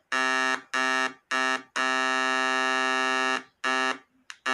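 Loud, harsh electronic buzzing from a homemade inverter oscillating strongly, in several on-off bursts, one held for about two seconds, with short silent gaps between; no voices.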